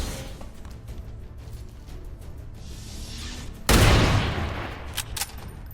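A single loud sniper rifle shot in the XCOM 2 game cracks out abruptly over a low ambient hum, followed by a brief decaying tail and a few faint clicks.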